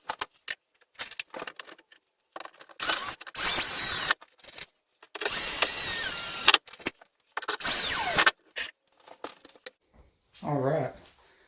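A power drill drives screws into drywall anchors to mount a wall shelf, with several whirring bursts of a few seconds each, stopping and starting at close range, broken by clicks and handling noise.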